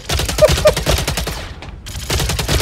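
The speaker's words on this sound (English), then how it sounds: "Three shots." Gunfire in the Star Citizen video game comes as rapid, loud bursts of overlapping shots, with a short lull near the middle before the firing resumes.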